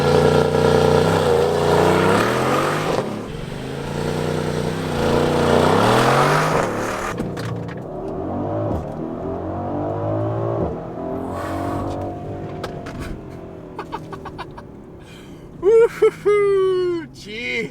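A 2020 Mercedes-AMG GLC63s Coupe in Sport Plus mode builds revs against the brake, then launches with a loud rising roar through several quick upshifts. The engine sound fades as the car pulls away.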